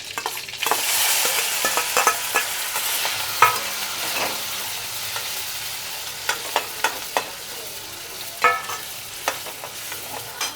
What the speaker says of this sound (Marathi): लसूण पण टाकून देते, लसूण पण मस्त परतून जाणार त्याच्यात.